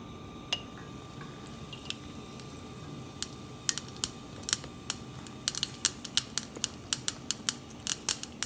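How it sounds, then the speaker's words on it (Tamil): Sharp crackles and pops burst irregularly over a low background hiss, growing denser and louder toward the end, as mustard seeds splutter in hot oil. "எண்ணெய் காஞ்சதுக்கப்புறம் கடுகு 1 ஸ்பூன் போட்டுக்கலாம்."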